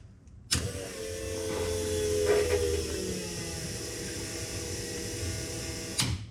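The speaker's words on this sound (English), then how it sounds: "Let's turn on the fuel pump." A race car's fuel pump switched on during pre-race prep, giving a steady electric whir and hum with a sharp start and stop, heard close up and alone for about five and a half seconds.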